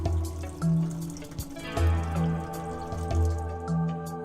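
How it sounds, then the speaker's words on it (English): A measured dose of cleaning agent is poured into the clean water tank of a B70 floor scrubber, giving soft dripping and splashing liquid over a steady low machine hum. "Correctly measure the required quantity of cleaning agent and pour it into the clean water tank."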